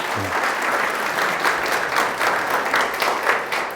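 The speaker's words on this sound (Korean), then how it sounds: "자, 박수." A parenting-school lecture audience applauds, dense, even clapping running steadily from start to finish at moderate loudness.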